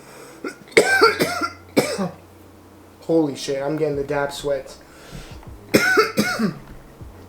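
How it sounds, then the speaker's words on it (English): Several sharp, harsh coughs come in bursts after a hit from a Dr. Dabber Switch 2 e-rig, separated by stretches of someone talking. "I still got a lot of coughs to get out"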